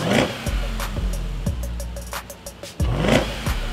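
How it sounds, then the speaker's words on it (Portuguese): A Jeep Grand Cherokee Trackhawk's V8 engine revs at a launch, held on the brakes, giving repeated sharp throttle blips and deep pulsing bursts up close, with rumbling idle between them. "é só frear e acelerar ao mesmo tempo, o giro vai subir um pouquinho"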